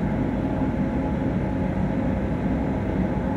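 A Berlin S-Bahn train in the video game Train Simulator Classic gives off a steady, loud, even rumble of running gear, with no break or change across the short stretch.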